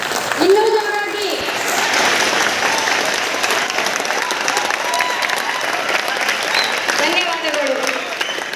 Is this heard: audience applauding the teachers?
yes